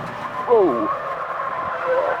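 A race car spinning out at a chicane, with a brief tire squeal and the engine droning under a voice speaking over the sound.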